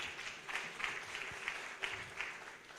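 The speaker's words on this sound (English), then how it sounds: "Let us give her another round of applause." An audience at an enterprise development event gives a round of applause, steady and fairly faint, with a few crisper claps standing out.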